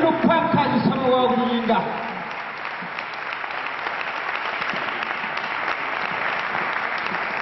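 A crowd at an evangelical healing crusade in Ouagadougou breaks into sustained applause and cheering that carries on steadily after a brief burst of voices at the start.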